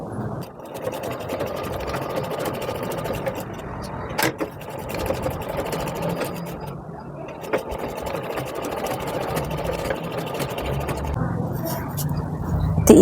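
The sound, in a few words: sewing machine stitching blouse tucks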